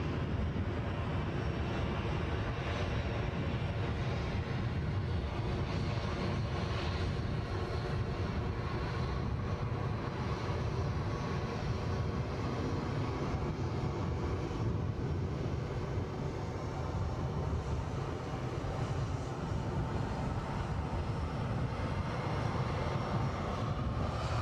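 An easyJet airliner at Edinburgh airport produces a sustained, fairly distant jet engine roar, broad and steady throughout with a low rumbling edge and no voices.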